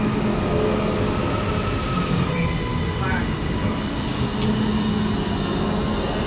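Train 331031 pulls into a platform on the line between Manchester and Preston, a loud, continuous rolling rumble of wheels on rails with faint squeals and clatter, heard up close from start to finish.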